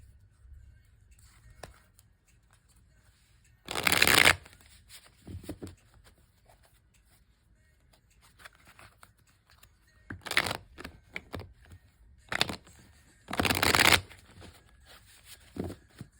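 Thick tarot cards being shuffled in several separate bursts, crisp riffling rustles close by, separated by quiet pauses with small handling sounds.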